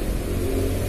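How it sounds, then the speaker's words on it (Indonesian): Motorbikes and cars pass close by on a roadside along Jalan Parangtritis in Bantul, Yogyakarta, a steady, loud engine drone with a revving surge and wind noise. "Suara motor, suara mobil, suara pit, suara angin."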